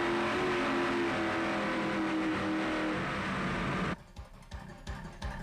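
Mercury Racing skater powerboat engine heard onboard, a loud steady roar for several seconds that suddenly drops away into wind buffeting and thumping.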